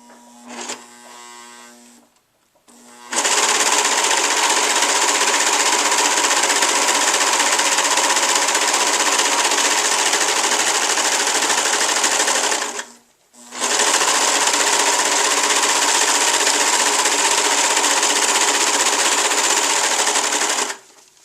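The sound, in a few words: serger sewing machine sewing and cutting fabric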